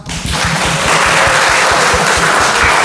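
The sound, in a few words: applause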